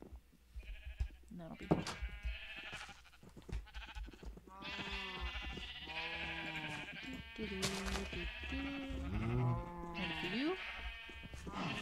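Sheep in a blocky building video game bleat repeatedly, with several wavering calls in a row, while a person talks over them throughout.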